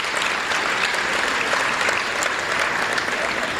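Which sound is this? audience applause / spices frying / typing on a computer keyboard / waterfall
audience applause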